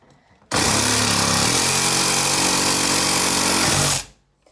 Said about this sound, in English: the tip of my Sawzall is just bouncing off of it